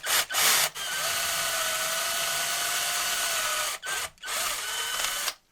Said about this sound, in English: I'll just drill a nice little pilot hole for our large bit.